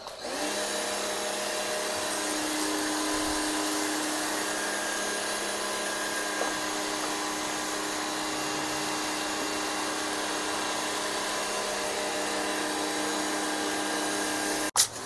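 A Costar high-pressure car washer pump runs continuously with a steady whining hum and hissing spray, moderately loud and even for the whole stretch, ending with a brief clunk.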